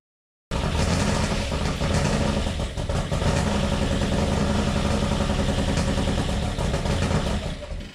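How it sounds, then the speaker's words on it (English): A Porsche fitted with an LS turbo engine runs loudly and steadily up close, a dense rough mechanical roar that starts abruptly and holds for several seconds with slight fluctuations. "got the engine running."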